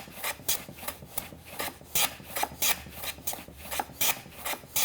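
Hand plane shaving a wooden board, a dovetail box component sized to length at a woodworking bench: a string of quick rasping strokes in a steady rhythm, close and clear with no talking.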